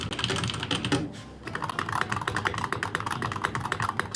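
Fingers type briskly on a Hall Effect computer keyboard, a dense rapid clatter of close keystrokes with a brief pause near the start before the rhythm resumes.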